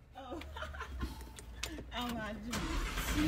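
A car engine turns over and settles into a steady low rumble close by, heard from inside the car, running under continuous talking and bits of laughter, with the sound swelling slightly toward the end.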